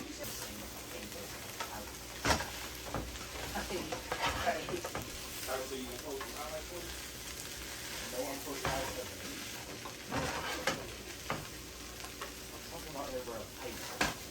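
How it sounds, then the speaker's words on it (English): Potatoes, peppers and onions frying in oil in a pan, a soft steady sizzle with irregular scrapes and knocks of stirring, fairly faint and close, with a voice talking over it at times. "I'm just trying to get some of that oil onto these potatoes and get those peppers and onions mixed in there as well"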